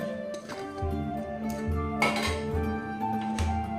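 Chicken pieces dropped into a mixer-grinder jar, producing close clinks and clatters of the jar and lid against the kitchen counter, several knocks scattered over a few seconds with no speech.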